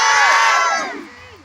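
A large festival crowd at a live music show yells together in one loud, sustained shout on cue, which swells and then fades over about a second and a half.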